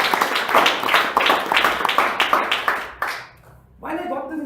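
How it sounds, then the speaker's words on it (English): An audience claps in a round of applause, the rhythmic hand claps rising and falling, then stopping abruptly before a voice begins speaking. "Can we have a huge round of applause for us"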